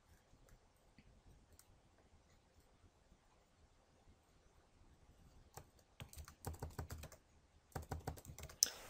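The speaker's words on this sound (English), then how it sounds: "I'll just type revolve in my where's my tool" Computer keyboard typing while entering a feature search in CAD software, the quiet room staying nearly silent before bursts of rapid clicking keystrokes arrive in the final few seconds, close and moderately loud.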